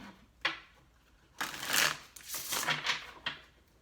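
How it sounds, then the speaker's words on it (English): A deck of tarot cards is shuffled up close, with several quick riffling bursts and soft card slaps separated by short pauses, and no speech over it. "this will be our last shuffle"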